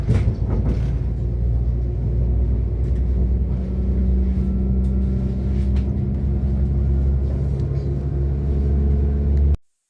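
Northern Class 195 diesel unit running toward Manchester Piccadilly, a heavy continuous low rumble and vibration inside the carriage with occasional knocks from a bumpy ride, steady throughout.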